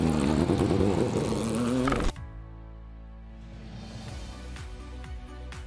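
A Furai concept race car engine revs hard and loud for about two seconds, with rising harmonic tones, then cuts off abruptly into a much quieter, tonal background.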